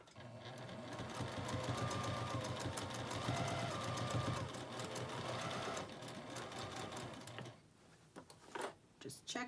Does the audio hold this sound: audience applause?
no